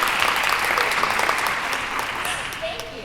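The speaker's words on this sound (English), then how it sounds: "I think you can give her a bigger round of applause" Dense, steady applause fills a conference hall during the opening plenary of an arts gathering, a broad wash of many hands clapping close and even throughout, slowly easing off near the end.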